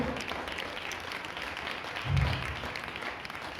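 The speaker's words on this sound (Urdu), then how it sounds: "خدا ان کے لیے زوردار تالیاں بجائیے" Church congregation clapping loudly during an Urdu-language sermon meeting, a continuous rough burst of applause with a brief low thump partway through.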